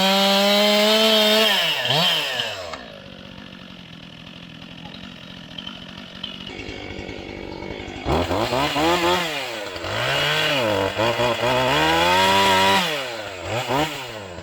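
Chainsaw cutting through a tree trunk in the forest, the engine revving up and dropping in repeated surges as the bar bites through, loud and close, with a quieter idling stretch in the middle.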